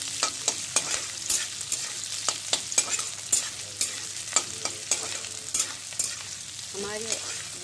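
Close sizzling and frying in a pan with regular scraping stir strokes, building the base for an egg curry before tomatoes and spices go in; steady and moderately loud with no voices.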